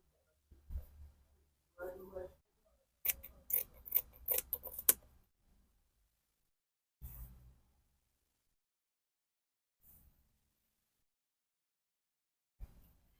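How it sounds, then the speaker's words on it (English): Scissors snip excess fabric while sewing a kimono-style dress, a few short quiet cutting bursts spaced apart with near silence between them. "I'll trim off the excess."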